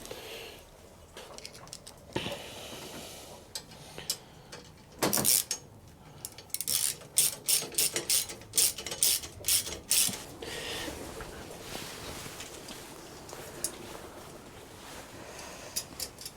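A ratchet tightens nuts and bolts on a motorcycle sissy bar with bursts of quick, close clicking, separated by pauses and faint handling noises.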